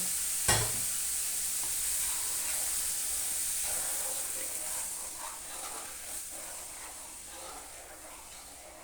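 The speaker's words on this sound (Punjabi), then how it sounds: "ਹੁਣ ਇਹਦੇ ਵਿੱਚ ਪਾਵਾਂਗੇ ਆਪਾਂ ਥੋੜਾ ਥੋੜਾ ਕਰਕੇ ਦੁੱਧ ਵੀ ਇਕੱਠਾ ਨਾ ਪੈਣ" Milk is added gradually and stirred into a warm boondi kheer mixture in a pan, giving a soft continuous hiss and sizzle with faint spoon scrapes, close and fairly steady, fading slightly toward the end.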